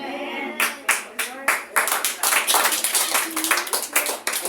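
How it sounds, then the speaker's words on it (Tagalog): A church congregation claps sparsely and unevenly, with scattered hand claps that are fairly thin and light. The clapping builds slightly but never becomes full applause, and a faint voice lies underneath at the start. "Ang hina naman ang palakpak na yan."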